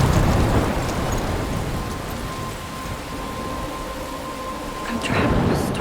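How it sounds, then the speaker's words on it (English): Thunder and rain in the video game Life is Strange during a storm near a lighthouse, a heavy rumble opening and returning at the end over steady rainfall, loud and close. "trovões no fone tá incrível, velho"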